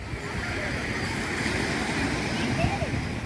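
Surf washes steadily onto Pantai Paku beach in Jangka, Bireuen, a constant broadband rush of waves with wind noise, loud and close, no words spoken.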